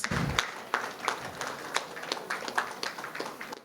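A crowd at a book launch at the Sharjah International Book Fair applauds with steady, dense clapping that holds throughout, a few sharper claps standing out near the start.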